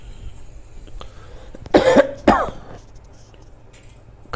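Two harsh coughs come in quick succession, close and fairly loud, over a quiet background.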